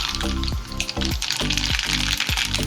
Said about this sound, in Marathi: छान कडकडीत तापलेलं आहे तर त्यामध्ये मी एक चमचा मोहरी घालून घेते